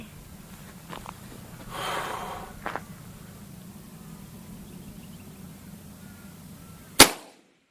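A lever action rifle fires one sharp, loud shot at a steel plate target near the end, after several seconds of quiet outdoor background with a few faint shuffles and breaths.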